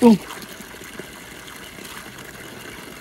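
A rare waterfall in Fateh Jhang sends water flowing in a steady, even rush that fills the clip, with a brief voice heard at the very start.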